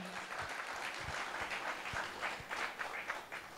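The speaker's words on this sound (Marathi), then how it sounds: "परत एकदा जोरात टाळ्या होऊन दे" Audience applause at a stand-up comedy show, a dense, even wash of many hands clapping that holds steady throughout, fairly distant and soft, with no clear talking over it.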